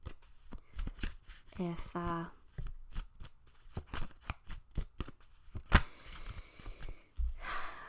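Tarot cards are handled and shuffled close up, with a quick riffle and a series of soft slaps and taps, while a person speaks quietly.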